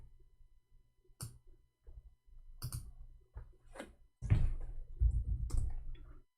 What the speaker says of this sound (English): Oh, I'm typing in Arabic.